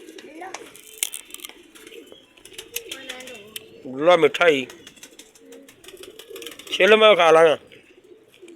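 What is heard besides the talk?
pigeon cooing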